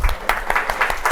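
Brief burst of audience applause at a live political event, a quick scatter of claps lasting just over a second.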